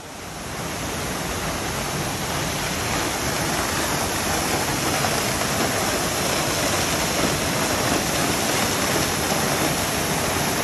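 Seven Sisters waterfall in North Sikkim, fed by water from seven mountains, pouring in a constant loud roaring rush, close by and steady with no voices over it.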